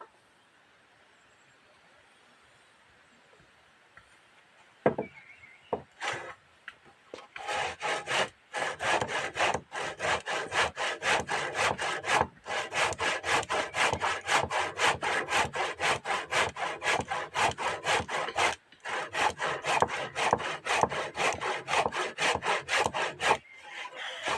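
A hand saw cuts through wood in quick, regular back-and-forth strokes, close and loud, starting after about five quiet seconds and continuing with only a few brief pauses.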